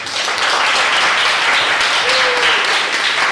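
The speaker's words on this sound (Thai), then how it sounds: "ขอเสียงปรบมือให้กับแขกรับเชิญด้วยค่ะ" An audience applauds a guest speaker at a law faculty orientation for new lawyers, with steady, dense clapping from a large crowd filling the room throughout, loud and continuous.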